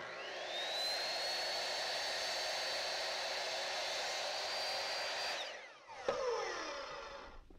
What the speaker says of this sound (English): And we will cut the 17.